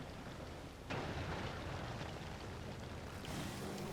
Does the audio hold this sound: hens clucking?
no